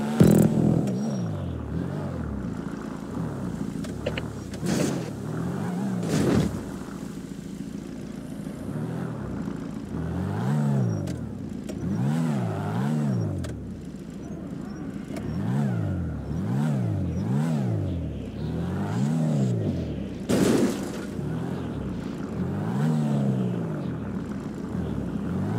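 Game car engine of a Mini Cooper in GTA 5 during a stunt parkour race, revving and surging in repeated rising-and-falling sweeps, loud and continuous, with a few sharp bangs of impacts.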